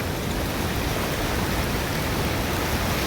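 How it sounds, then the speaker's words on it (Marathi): Heavy monsoon downpour and rushing floodwater in a stream by a village in Maharashtra make a dense, loud, unbroken roar that fills the whole clip without letting up. "बरोबर आहे भयंकर पाऊस झालाय आज"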